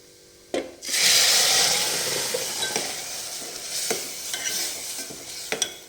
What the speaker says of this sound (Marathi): आता आपण याच्यात डाळ टाकूया